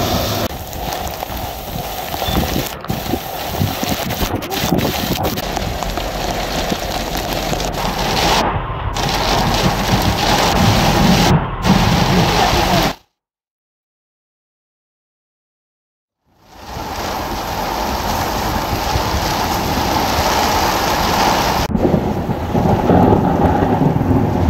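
Heavy rain pours steadily with rumbling thunder east of Wadi Shahdan in Harub governorate, the downpour loud and continuous, briefly cutting out to silence midway before resuming at full strength.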